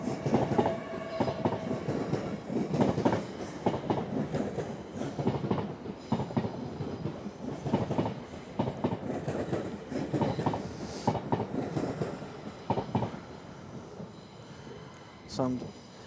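A train bound for King's Cross rumbles through Doncaster station, a continuous loud roll of wheels with clattering rail joints and a brief squeal near the end, with faint voices in the background.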